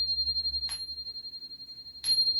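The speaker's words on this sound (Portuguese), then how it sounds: "Vocês viram que eu comecei a aula com o sininho, ó?" A small bell is struck twice, each a bright ringing tone, with a steady sustained ring lingering between the strikes in a quiet room.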